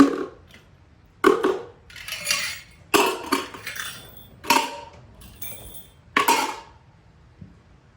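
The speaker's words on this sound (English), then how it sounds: "I'm going to try putting some metal lids into it, and they will clang into each other" Metal lids clang and rattle against each other inside a hollow drum in several separate bursts, with short quiet gaps between them.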